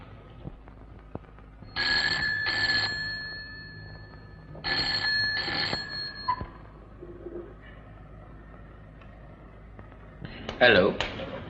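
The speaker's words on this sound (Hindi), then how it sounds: "परेरा, तुम्हें 50 दफा बोला यहां पे फोन मत किया करो।" An old-style telephone rings in a Bollywood action film, with two double bursts of bright, trilling bells separated by a pause, followed by a brief clatter near the end against a quiet room.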